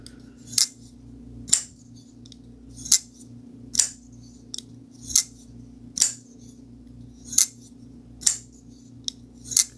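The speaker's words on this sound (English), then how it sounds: "Look, here's your push button. Look at that, how it snaps." A push-button knife blade snapping open and shut, sharp metallic clicks repeating roughly every second, close and crisp over a quiet background hum, with no voices.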